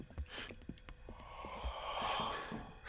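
In the horror game Erie, a creature's heavy breathing rises nearby as a long, hoarse exhale after a few short snorting gasps, close and fairly loud.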